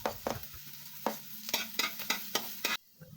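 Onion and garlic sauté in a pan, with a spatula scraping and stirring in repeated close strokes over a soft sizzle, ending in a brief quiet, with no talk.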